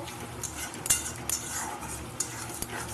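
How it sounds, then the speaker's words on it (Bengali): Cauliflower florets seasoned with salt and a little sugar are stirred in a pan for a spinach-and-cauliflower dish, a spoon scraping and clinking against the metal in a few irregular strokes over a low, steady background. "বেশ কিছুক্ষণ ধরে একটু নেড়ে নিতে হবে"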